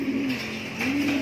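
Homing pigeons coo in a low, rolling, repeated call, close and clear, a pair of soft throaty phrases with no voices over them.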